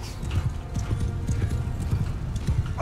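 Massed cavalry hooves clip-clop and pound in a steady galloping patter during a Mount & Blade 2 Bannerlord battle, with a horse whinnying amid the continuous close drumming of the charge.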